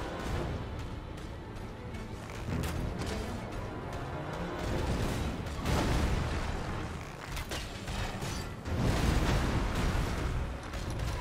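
A powerful charged attack in Elden Ring, played with a slow bow only, erupts in heavy booming blasts and rumbling impacts over several seconds, with loud surges around the middle and near the end.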